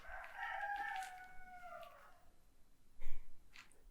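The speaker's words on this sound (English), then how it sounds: "get away from that loud rooster" A rooster crows once in a long, drawn-out call at moderate distance, followed by a brief thump and quiet background.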